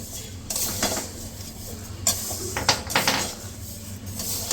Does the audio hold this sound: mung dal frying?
yes